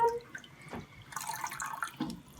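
Running water splashes and drips faintly from a tap as a pet green cheek conure bathes, with soft irregular trickling and small splashes close by, heard alone without talking.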